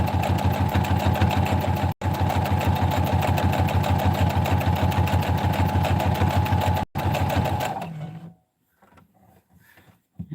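A sewing machine stitching potholders runs in a loud, steady, fast mechanical whir close up, briefly cut twice, then stops, leaving faint handling noises.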